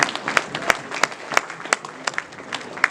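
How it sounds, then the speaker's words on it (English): A room full of people claps steadily, warm applause at close range with a few louder individual claps standing out. "Give yourselves a round of applause for being here tonight."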